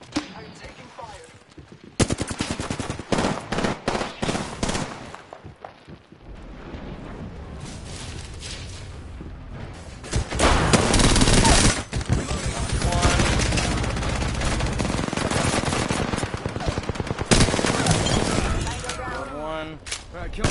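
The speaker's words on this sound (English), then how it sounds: "I'm taking fire." Video game gunfire with the player under attack: loud, dense, sustained bursts of automatic shots and blasts rattle almost without pause, while a voice speaks over the combat.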